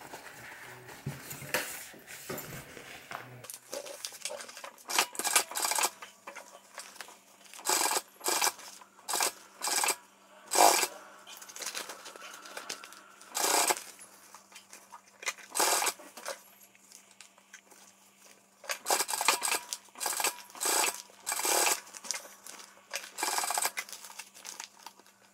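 Sewing machine stitching binding around a fabric cross body bag, heard as many short rapid whirring bursts with pauses, fabric rustles and handling noises in between, close by with no talk.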